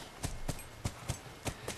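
Horse hooves clip-clop in the video game The Last of Us: about six evenly spaced, fairly close strikes in a steady walking rhythm over a soft background hum.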